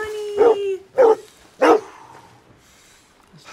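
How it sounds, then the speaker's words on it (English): Three loud yelping barks from a small dog in Red Dead Redemption, coming in quick succession with a brief whine between them, followed by quieter game ambience. "I'm coming, little dog."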